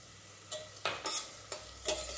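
Ginger and garlic sauté with mutton and onions in a pan, a faint sizzle under four or five quick, close scrapes of a spoon as the mixture is stirred, with no voices.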